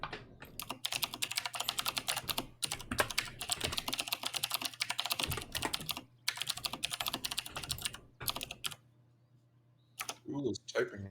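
Fast, dense typing clatters on a computer keyboard in steady rapid bursts with brief pauses, heard close, while people talk over it.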